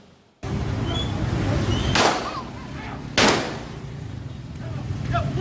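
Two sharp warning shots fired by Jember police narcotics officers in East Java while arresting a fleeing young drug courier, each a sudden loud crack over steady outdoor background noise, about a second apart.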